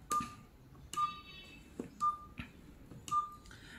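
Keypad dialing tones on a GSM fixed wireless desk landline phone: four short, clear beeps spaced about a second apart, each with a soft click of the button press, heard close in a quiet room.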